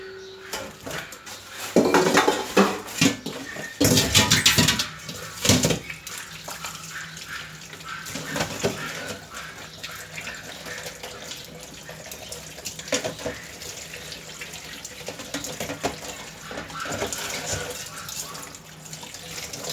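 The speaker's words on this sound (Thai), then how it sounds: "ล้างตรงเหงือกของปลาด้วยนะคะ ล้างเอาเลือดของปลาออกค่ะ" Tilapia fish being washed under a running kitchen tap, with steady flowing water and splashing, louder for a few seconds near the start, plus occasional light clatter against the sink, no talking.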